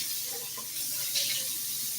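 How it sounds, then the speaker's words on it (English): Tap water runs steadily from a faucet, a continuous close hiss and splash that holds even for a couple of seconds with no talk over it. "See? Tap water."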